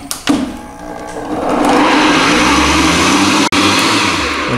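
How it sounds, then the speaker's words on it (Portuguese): A kitchen blender whirs loudly as it mixes batter for savory snacks, starting with a few clunks, then settling into a steady, close motor drone that holds for several seconds before a brief dropout. "Vamos ligar nosso liquidificador aqui e bater bem batido para ficar bem cremoso."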